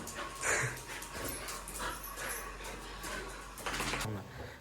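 A pet dog at home panting and whimpering in short, breathy bursts close by, with a voice calling out and chatter around it.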